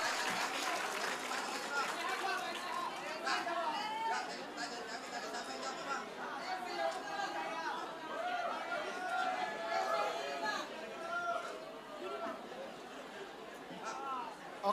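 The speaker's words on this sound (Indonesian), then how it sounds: "Tepuk tangan dulu buat semuanya." Audience applause at a public Q&A session with Anies in Pontianak, a steady sustained clapping from a crowd, mixed with chatter throughout.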